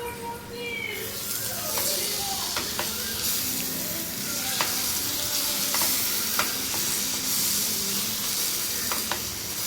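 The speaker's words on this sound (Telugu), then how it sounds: "ఒకసారి కలిపేసుకుందాం." Dry fish curry stirred in a pan of oil that has cooked down with onion and tomato, giving a steady close sizzle and fry with scraping strokes of a spoon recurring through the mix.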